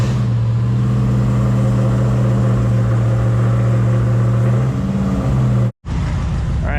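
A 1969 Dodge Charger with a swapped-in Hellcat engine runs loud and close, holding a steady deep drone for several seconds before cutting out abruptly, then roaring back up with a rising rev.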